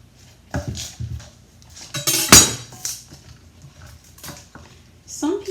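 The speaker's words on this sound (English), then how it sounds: "I'm just going to chop off the most wilted parts" Knife chopping the wilted ends off green onions on a board, with a few sharp close knocks and a bright metallic clink in the middle, and a voice talking between them.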